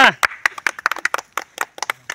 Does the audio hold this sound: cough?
no